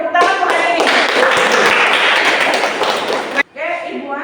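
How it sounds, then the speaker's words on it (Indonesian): Classroom applause from students ends a lesson, a dense burst of many hands clapping for about three seconds, loud and close, before cutting off into a teacher's voice. "Oke, tepuk tangan untuk hari ini."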